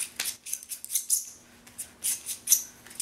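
A pencil is ground in a wide pencil sharpener with a run of short, scratchy grinding strokes that come in quick, uneven bursts, close and fairly faint.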